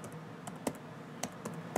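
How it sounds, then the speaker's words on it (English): Password being typed on the quiet keyboard of a new Windows 8 laptop: soft, scattered keystroke clicks, close and faint, with a few sharper taps and no talking. "let me just type in my password real quick."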